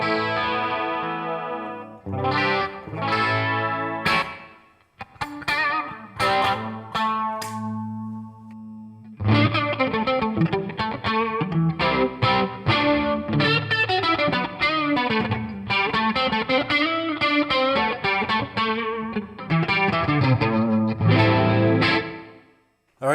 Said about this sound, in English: So we were checking out the Super Mini chorus.